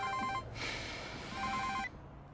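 A telephone rings twice indoors, each ring a trilling electronic bell burst separated by a short pause, fairly clear with no talking.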